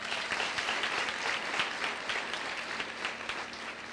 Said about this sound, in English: A bigger clap for our learners.